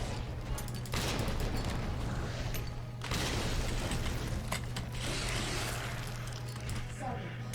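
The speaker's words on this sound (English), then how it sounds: "So I'm just going to throw grenades." Grenades exploding in the Resident Evil 2 Remake video game: several loud, dense blasts with rumbling, crackling tails, separated by a few seconds and set over continuous game noise.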